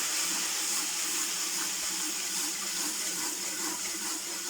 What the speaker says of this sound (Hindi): मैं इसमें थोड़ा थोड़ा पानी ऐड कर लेती हूँ।